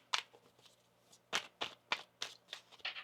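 Tarot cards shuffled by hand, a series of soft, quick riffling snaps at an uneven rhythm, close and fairly quiet with low hum underneath.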